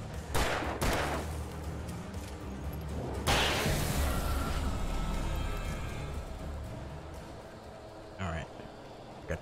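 Gunshots in Alan Wake Remastered: two sharp cracks close together at the start, then another loud burst a few seconds later and a faint pop near the end, over a low rumbling game ambience.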